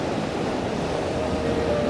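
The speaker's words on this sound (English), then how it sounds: "just as the wave starts to clear the rock and you get some of the rock showing through the water." Ocean surf washing over a rock ledge on the Central Coast near Sydney, a steady loud wash of water and foam with wind rumble throughout, no voices.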